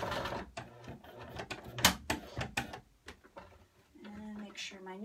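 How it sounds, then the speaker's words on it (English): Sewing machine stitching fabric and running a few backstitches, giving short rapid mechanical bursts with pauses between, close by and mixed with a person talking. "I'm gonna backstitch"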